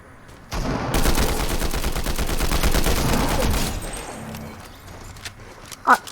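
Assault rifle gunfire in a video game rattles in a fast sustained burst for about three seconds, loud and close, followed by quieter scattered clicks and game sounds with light talk.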